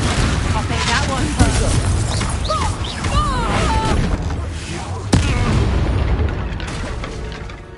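A Confringo blasting spell explodes in Hogwarts Legacy amid dense, continuous battle noise, with a sharp blast standing out near the middle and game voices calling out over the din.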